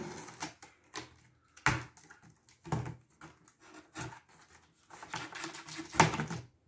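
Scissors snipping and tearing through cardboard and tape while opening a small parcel holding a PlayStation 5, a few sharp crisp cuts and rustles at close range with quiet pauses between them.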